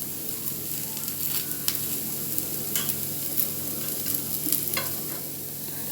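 Black rice paniyaram cooks in a paniyaram pan with a steady, close sizzle of frying, broken by a few small scraping clicks as the pieces are turned.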